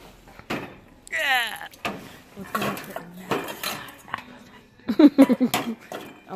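Metal mixing bowls and dishes clink and clatter as they are picked up and set down on store shelves while thrift shopping, a string of sharp close clanks and rattles, with a voice talking between them.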